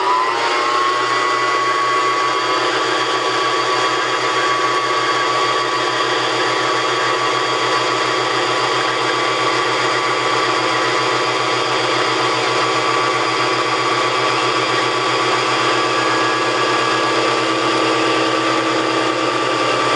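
A sewing machine winds thread onto its bobbin with a loud, steady motor whir and a constant tonal hum that never changes, unbroken and close, with no talking.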